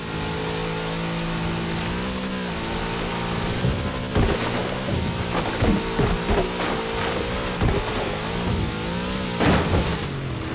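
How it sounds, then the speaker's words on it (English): A big Chevrolet engine in Forza Horizon 4 revs loudly and steadily, its pitch rising and falling as it accelerates, with repeated rough knocks and thuds from driving over rough ground mixed in throughout. "Such power in the big Chevrolet engine."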